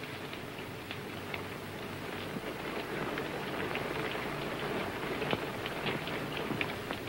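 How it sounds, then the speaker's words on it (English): Steady rain falls on a surface in a dense, unbroken hiss, with scattered sharper drops and ticks standing out now and then; no voices, constant and fairly loud throughout. "It's only the rain."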